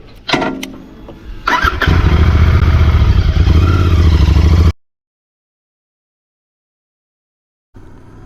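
A Royal Enfield Continental GT650 parallel twin catches and settles into a loud, steady running drone for a few seconds, then cuts to silence before returning faintly near the end.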